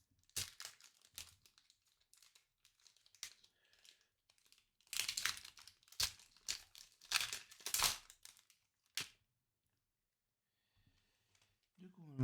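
A trading card booster pack's foil wrapper crinkles and tears in sharp bursts of crackling, separated by quiet gaps, with a long silence near the end.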